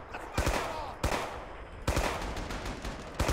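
Rapid bursts of gunfire from a World War II weapon in the shooter game Rising Storm, several loud, sharp volleys in quick succession with short gaps, a voice faintly underneath.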